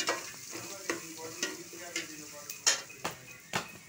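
Mustard seeds, curry leaves, garlic and chili sautéing in hot oil in a pan for masala pori, a soft steady sizzle broken by regular scraping stirs and a few light metallic clinks.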